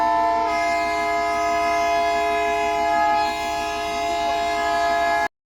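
A Darjeeling toy train sounds a long, steady horn with layered tonal harmonics, holding for about five seconds before cutting off abruptly, with no talking.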